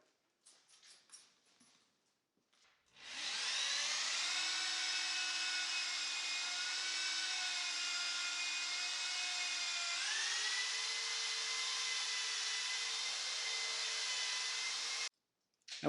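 A high-pitched Black & Decker electric drill whines steadily for about twelve seconds while polishing scratches from windshield glass, its pitch rising slightly partway through, after a few faint taps.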